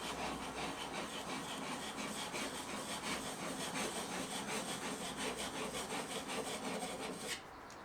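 A handplane blade is rubbed on a sharpening stone in small circles, making a steady, close, gritty scraping that continues without a break for about seven seconds and then stops abruptly.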